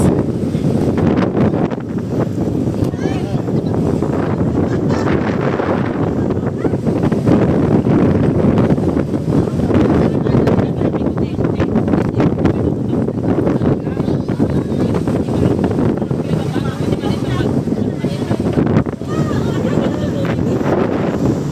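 Powerful wind blasts steadily against the microphone with rumbling gusts near the sea by Taal, Batangas, and voices can be heard faintly beneath the roar.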